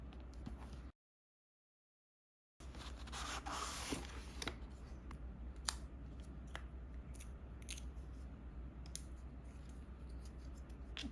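Packaging of a pivot stand for an Insta360 GO Ultra being opened by hand, close crinkling, rubbing and tearing noises in irregular bursts after a short silent gap, with no talk.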